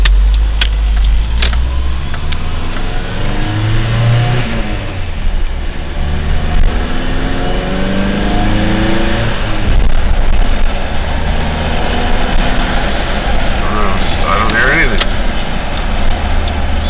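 A car engine hums low and steady, rising in pitch as the vehicle pulls away, with road and cabin noise throughout.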